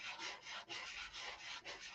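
Car paint on a Continental is sanded by hand with 320 grit sandpaper. The steady, close back-and-forth rasping strokes repeat about every half second, quiet, with no talk.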